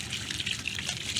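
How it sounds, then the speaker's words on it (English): Water gushes steadily into a container of dry concrete mix for stepping stones, a close, continuous pour with no voices. "Now let's mix it up with some water here."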